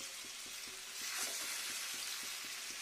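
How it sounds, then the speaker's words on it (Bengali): Khoshla bora fritters fry in oil at medium heat, with a dense, continuous sizzle and a quick regular popping pulse running underneath, close and steady throughout. "মিডিয়াম করে দিই, ফুট ফুট ফুট ফুট শব্দটা"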